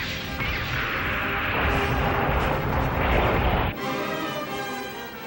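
Anime sound effect of a space fleet opening an artillery bombardment, a loud roaring barrage of crashing blasts that swells, then cuts to a lighter ringing rumble near the end.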